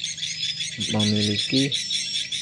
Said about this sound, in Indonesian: ini sebenarnya suara panggil yang digabung atau dimix dengan suara inap, dengan suara inap Rajawali ya.